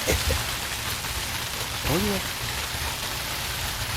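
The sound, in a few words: water tank overflowing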